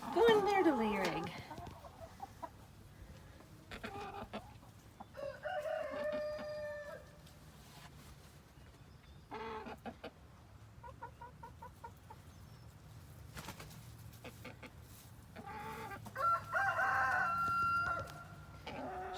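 Chickens at a homestead nesting box cluck and squawk up close in scattered bursts, with a louder outburst at the start and another near the end, while someone talks softly between the calls.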